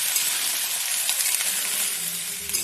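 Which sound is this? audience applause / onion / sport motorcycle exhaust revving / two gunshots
onion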